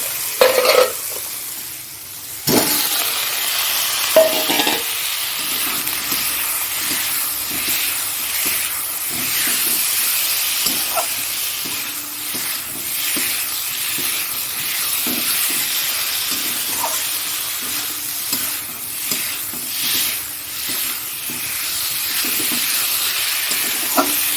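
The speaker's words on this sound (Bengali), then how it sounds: "আলুটাও দিয়ে দেবো এর মধ্যে চর্বির সাথে" Potatoes frying in fat in a pan for a potato curry, a steady broad sizzle and hiss running throughout, with repeated scraping and stirring knocks from a utensil against the pan, close and fairly loud.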